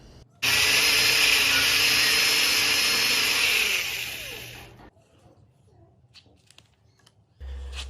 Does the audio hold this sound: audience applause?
no